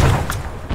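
A dynamite explosion in the military shooter Arma 3 booms loudly and close, a heavy low burst followed by a second rumbling blast within a second.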